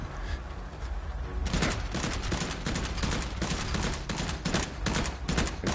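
Dense gunfire in the VR shooter Immortal Legacy: The Jade Cipher, a rapid stream of loud shots fired back to back as headshots land, continuous and close with no pauses and no talking.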